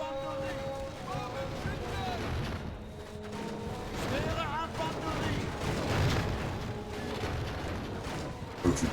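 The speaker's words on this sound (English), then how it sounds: "They're still firing at our guys." Troops firing guns in a Medieval 2 Total War battle, a steady crackle of distant musket-style volleys and booms spread through the scene under continuous talking and background music.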